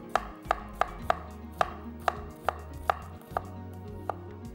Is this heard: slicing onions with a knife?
yes